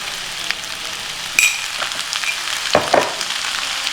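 Veg noodles stir-fried with masala and garam masala in a pan: a continuous hiss of frying under irregular scraping and tossing strokes, with a couple of louder clattering knocks.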